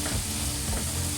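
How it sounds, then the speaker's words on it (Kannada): Egg curry masala fries in hot oil with a continuous, close sizzle and light crackle, steady throughout the short stretch without any voices. "ಈಗ ಮಸಾಲೆ ಕೂಡ ಎಣ್ಣೆ ಬಿಟ್ಕೊಂಡಿದೆ, ಹಾಗೆ ಫ್ರೈ ಕೂಡ ಚೆನ್ನಾಗಿ ಫ್ರೈ ಆಗಿದೆ"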